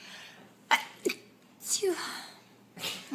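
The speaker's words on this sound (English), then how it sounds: "Hold on, I have to sneeze." A woman sneezes several times in quick bursts, each sharp and close, with short breaths and light vocal sounds between them.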